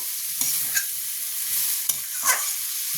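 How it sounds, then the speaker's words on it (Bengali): Pieces of fish stirred in a sizzling pan, a steady frying hiss broken by a few sharp scrapes and clinks of the spoon. "মাছগুলো দিয়ে ভালো করে একটু নাড়িয়ে জল দিয়ে দেবো।"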